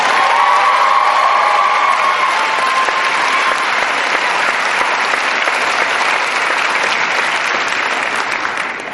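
A large commencement audience at a 2011 Western New England College law graduation applauds for faculty, staff and administration, a dense, sustained roar of clapping with scattered cheers and whoops, loud and steady throughout before tapering slightly at the end.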